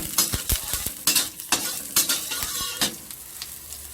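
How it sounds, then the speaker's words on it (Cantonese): Garlic stir-frying in oil in a wok sizzles steadily, punctuated by sharp, rhythmic scrapes and clacks of a spatula stirring against the metal, close and clear. "咁跟住落啲蒜頭爆下佢"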